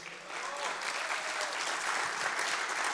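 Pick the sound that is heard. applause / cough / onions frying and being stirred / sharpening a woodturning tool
applause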